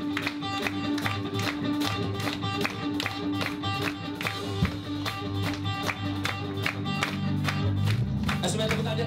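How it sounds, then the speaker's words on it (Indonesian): A church congregation clapping in steady rhythm along with loud worship music, a sharp beat of claps repeating through the whole stretch while voices and instruments fill the room. "Tepuk tangan buat Yesus"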